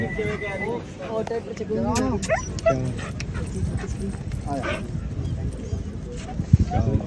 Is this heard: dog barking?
yes